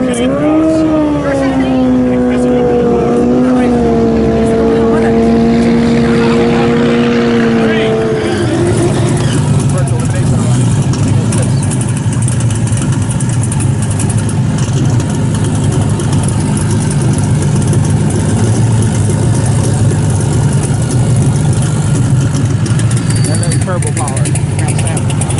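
Street cars at a drag race sit lined up and idling with a loud, steady engine rumble, one engine revving and dropping early before the idling settles into a constant drone, with voices talking over it.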